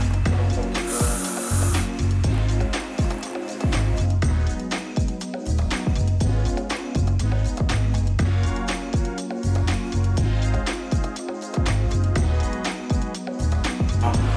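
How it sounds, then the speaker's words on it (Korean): Hairspray sprayed lightly onto the side of a client's medium-length layered haircut in a hair salon, one short hissing burst near the start, heard over steady background music. "스프레이에서 살짝 해주시고요."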